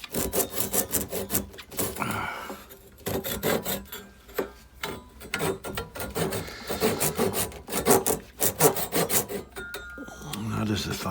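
A handsaw trims into the body of a Takamine guitar during a drastic repair, giving bursts of close, rasping strokes in an irregular rhythm with short pauses between runs.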